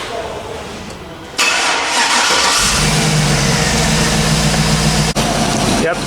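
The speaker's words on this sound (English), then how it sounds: "that's the sound of the engine when fired up" A 2006 Hummer H2 SUT's 6-liter GM Vortec V8 bursts into life and settles into a loud, steady, rumbling idle close by, running continuously after start-up.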